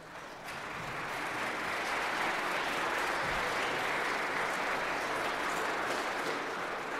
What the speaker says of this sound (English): your name triggered the applause